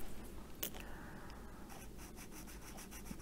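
A budget fineliner pen scratches across paper up close, giving soft, faint, steady strokes with a short squeak of the nib, and no voice.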